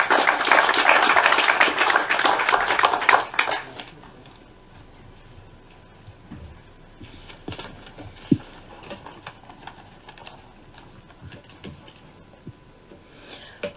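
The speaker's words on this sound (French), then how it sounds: "Sous l'applaudissement, s'il vous plaît." Audience applause at a commemoration of the abolition of slavery in Guadeloupe, a dense, loud burst of clapping for about three and a half seconds that cuts off into quiet room noise with a few faint knocks.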